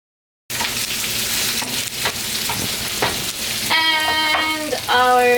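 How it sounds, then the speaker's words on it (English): Garlic sizzles steadily in a hot pan, a continuous crackling fry that runs almost alone, and clear ringing tones join the sizzle toward the end. "Alright, so we got our garlic cooking"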